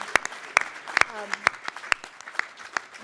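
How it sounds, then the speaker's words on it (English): Scattered applause from an audience at a Chicago panel on neighborhood equity, a handful of sharp distinct claps at a steady rhythm against a soft background murmur, with a brief voice partway through. "you can applaud for that"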